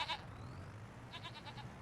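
Goats bleat faintly in a Farming Simulator 25 farm game, one short bleat at the start and then a quick run of several rapid bleats, quiet and somewhat distant.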